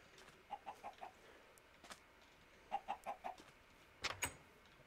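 A Minecraft chicken clucks in two short bursts of about four clucks each, clear and moderately close over a quiet game background, followed by a brief electronic-sounding chirp near the end.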